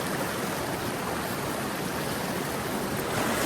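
A strong, fast-flowing river current rushes in a dense, continuous roar, steady and close with no break across the whole stretch.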